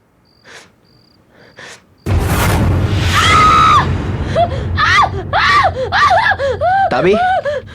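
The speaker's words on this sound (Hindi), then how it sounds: "तुम ऐसी चीखी क्यों?" A woman screams in fright in a Hindi horror film: after quiet murmurs, a sudden loud shriek bursts out, followed by a string of panicked, gasping cries.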